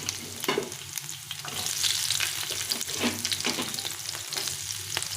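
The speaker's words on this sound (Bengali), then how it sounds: "একটু নাড়াচাড়া করে দিয়ে দেবো পেঁয়াজ কুচি।" Chopped garlic and onion frying in a pan for pasta while being stirred, a loud, steady sizzle broken by scraping spoon strokes, with no voices.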